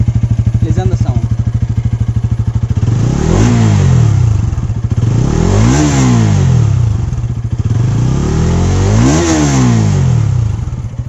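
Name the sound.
Bajaj Pulsar NS200 BS6 motorcycle underbelly exhaust revving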